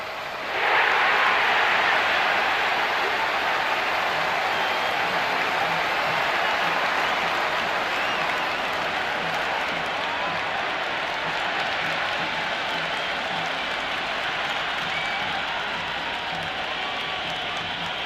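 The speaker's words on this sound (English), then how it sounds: "There's a buzz, a real buzz coming from the stands." A stadium crowd in the cricket video game Cricket 26 keeps up a steady, loud roar of cheering and clapping that holds for a long stretch without pause, like a continuous wash of noise from packed stands.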